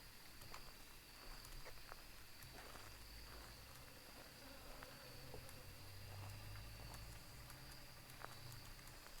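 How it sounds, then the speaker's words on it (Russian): Bees buzz in a dark horror video game, a faint steady drone with scattered soft ticks and clicks and no talk over it. "Меня пугает звук пчел."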